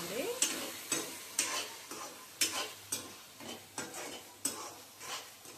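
Sliced ridge gourd sizzles in a hot pan and is stirred in regular strokes, each pass giving a scraping swish about every half second over a steady frying hiss.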